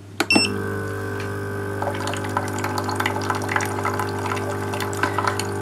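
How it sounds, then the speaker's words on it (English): A click, then a baby formula machine pours a steady stream of cool water into a bottle over a low machine hum, with faint trickling and dripping throughout. "that's the cooler water that's going to cool down the hot water"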